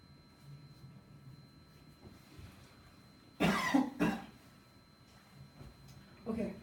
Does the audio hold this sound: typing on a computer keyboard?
no